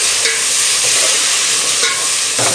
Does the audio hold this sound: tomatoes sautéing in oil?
yes